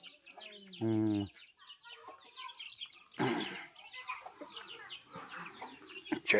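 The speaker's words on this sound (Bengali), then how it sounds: "এগুলো পোষা মুরগি।" Pet chickens cluck and call near and fairly loud while being fed rice on a hillside homestead in Mizoram, with a sharp squawk early on and people talking throughout.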